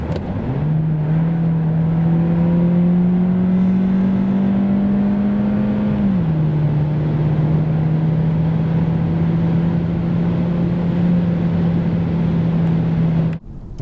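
A 2021 Volkswagen T-Roc with a 150 hp 1.5 TSI engine accelerates hard from about 90 to 140 km/h. The loud, steady engine note climbs in pitch, drops briefly at a gearshift midway, then keeps pulling.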